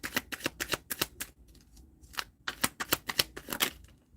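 Playing cards being shuffled, with repeated crisp riffling bursts in two clusters separated by a short pause, close and clear with no speech.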